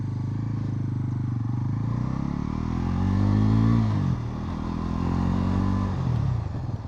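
A Bajaj Pulsar NS 400Z carrying rider and pillion runs close and loud, its engine note rising and falling through the strong low rumble as it slows under braking from about 40 km/h, with some clatter.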